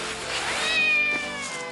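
A kitten gives one drawn-out meow, close and clear, over soft background music.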